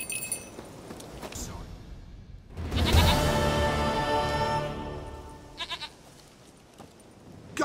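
A goat in The Witcher 3: Wild Hunt gives one loud, drawn-out bleat lasting a couple of seconds, framed by quieter in-game ambience and a few short clinks, with a voice speaking nearby.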